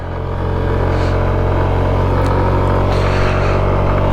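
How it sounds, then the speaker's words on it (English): A SYM 169cc motorcycle engine pulling hard at altitude on a road trip, a loud steady droning rumble with rising revs close to the microphone, no voices. "The extra torque of the 169cc engine is showing its worth right here at altitude"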